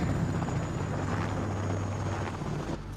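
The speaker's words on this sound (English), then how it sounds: "White chopper, blue stripes." A helicopter's steady rotor thrum and engine drone, moderately distant and fairly quiet, with a bit of wind rumble and no voices.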